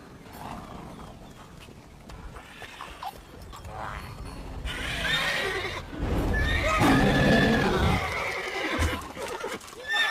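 Roach, the horse in the video game Witcher 3, gives a loud drawn-out neigh and whinny in the second half over hoof clip-clop and background game ambience.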